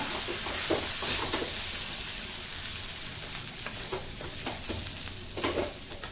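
Bitter gourd and roasted gram flour sizzle steadily in a hot pan, with soft scraping and stirring strokes rising now and then above the continuous frying hiss.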